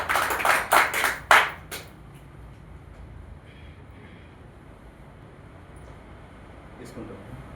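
An audience at a stage event claps in a brief, loud burst of a few strong waves lasting under two seconds, then falls away to quiet room tone with faint background noise.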